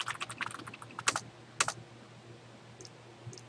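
A password is typed on a computer keyboard, a quick close burst of light key clicks followed by a few separate, firmer keystrokes and then near silence, with no talking.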